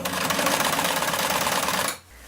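A sewing machine stitches in a steady, fast, close whirring rattle for about two seconds, then stops abruptly, leaving a low hum.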